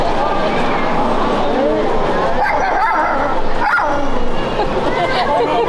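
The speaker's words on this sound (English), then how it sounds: "That dog did not like me." A dog at a campervan and motorhome sales lot in Nagoya, Japan, barks and yips continuously and excitedly, up close and loud, mixed with whimpering against a busy background.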